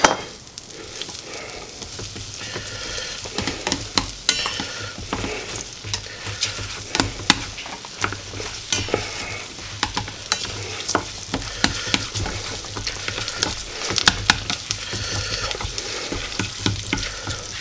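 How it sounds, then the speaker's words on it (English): Butter melting and sizzling in a pan for creamed peas with mushrooms, a steady close crackling fry with frequent sharp pops and stirring scrapes throughout, no speech. "We're going to put in our butter. We're going to let it melt."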